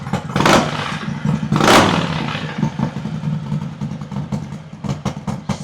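A motorcycle fitted with a new Thundermax exhaust idles close by with a loud, crisp, lumpy rumble, swelling with two brief throttle blips early on before settling into a steady, uneven idle.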